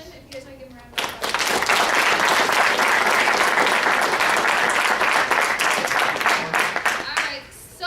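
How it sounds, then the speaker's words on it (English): An audience gives a sustained round of applause for freshman volleyball players, dense clapping swelling after a spoken lead-in and holding steady for several seconds before tapering off. "if you guys want to give them a round of applause."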